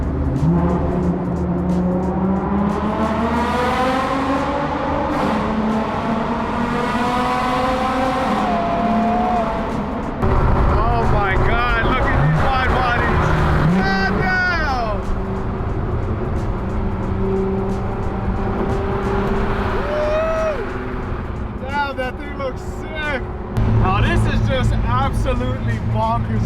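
A Liberty Walk Silhouette Supra MK5 and a Liberty Walk Type 1 GTR drive through a tunnel, their engines loud and close with rising and falling revs and sharp crackles echoing off the walls, under continuous talk.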